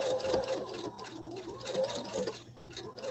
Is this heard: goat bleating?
no